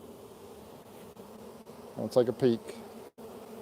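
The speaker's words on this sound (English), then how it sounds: "Oh, those bees, you can smell that lemongrass" A swarm of honeybees hums with a steady, close buzz inside a hive box caught from a tree, while someone speaks briefly over it.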